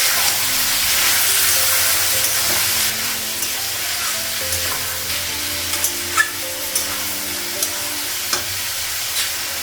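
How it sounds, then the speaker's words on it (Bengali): Meat browns in a hot pan with a loud, dense hiss of frying fat that eases slightly partway through, while a utensil clicks and scrapes against the metal now and then. "মাংসটা খুব ভেজে নিব তারপর মশলাগুলো লাগাবো লঙ্কা ভেজে লাগাবো"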